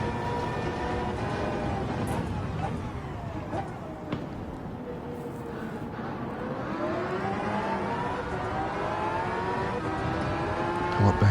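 Race car engine in Gran Turismo 7 at Circuit Gilles Villeneuve, a GR 1 car, droning steadily and loud throughout with shifting pitch as it accelerates, alongside other cars on track.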